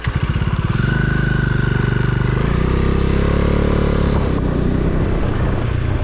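A motorcycle on a sandy road in Assam revs up and rides off, its loud throbbing engine climbing steadily and then easing as it pulls away.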